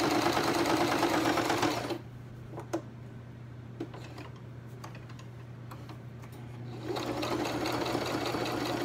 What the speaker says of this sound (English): I'm gonna sew this one first.